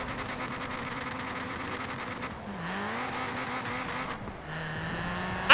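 Ford Racing Puma rally car in Forza Horizon 4, its engine droning steadily and loudly with shifting pitch as it revs and changes gear, tyre squeal mixed in, no talking.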